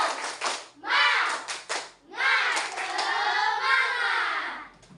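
A fifth-grade primary school class does a rhythmic spirit clap, bursts of clapping mixed with the children's loud chanting voices in unison, close and lively.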